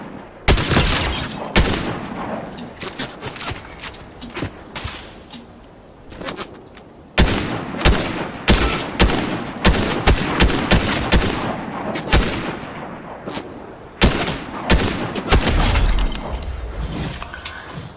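Gunfire from the video game Fortnite comes in loud bursts of rapid shots and single cracks, dense and close, with short pauses between volleys and no voices.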